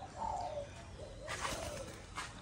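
A young Malaysian spotted dove coos softly in a few low, rounded notes, fairly close, against a noisy background hiss.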